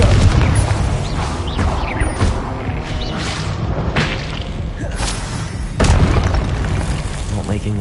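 A Confringo spell explosion in the video game Hogwarts Legacy booms loudly with heavy thuds and whooshing crashes that stay dense throughout, swelling into a fresh burst near the end.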